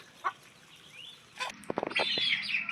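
High Flyer and Aseel chicks on a farm make a few soft clucks and faint peeps, then a denser run of high cheeping in the last second, heard close and fairly quiet.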